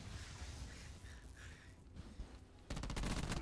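Pistol gunfire in a video game: a dull, noisy stretch gives way near the end to a loud, rapid burst of closely spaced shots that continues to the close.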